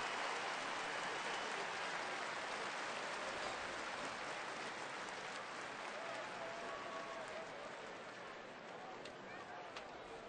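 Stadium crowd at a TCU vs San Diego State college football game applauds as an injured player sits up, a broad, steady wash of clapping and crowd noise that holds for the whole stretch, with talk partly audible underneath.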